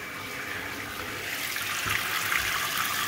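Water rushes steadily into a toilet tank as it refills through a newly installed fill valve, a continuous hissing flow that swells slightly near the end, heard up close with no talking.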